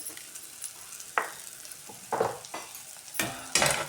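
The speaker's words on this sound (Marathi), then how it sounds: "एकदा छान परतून घेऊया." Potatoes and dal are sautéed and stirred in a pan, with a soft, steady sizzle broken by several scraping stirs of rising loudness, heard close with no voices.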